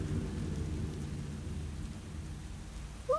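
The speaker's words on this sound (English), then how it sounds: "Ooh, it's raining." Steady rain and low rolling thunder from the video game The Stanley Parable: Ultra Deluxe fill the clip quietly and continuously with no speech.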